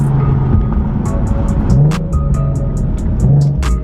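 A car engine revs through a Motordyne Art Pipes exhaust, a steady loud drone with two rising rev swells and rapid ticking pops on top, close by with no talking.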